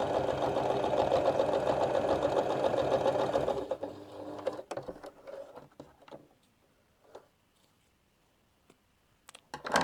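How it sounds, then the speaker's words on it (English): A sewing machine stitches a laundry bag in one steady, close run of rapid mechanical chatter that stops partway through, followed by quiet clicks and light handling noises. "So I'm sewing, I'll show you at the end, down each side and then once down the middle."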